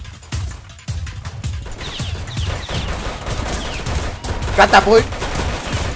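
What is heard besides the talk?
gunfire in a Roblox hood video game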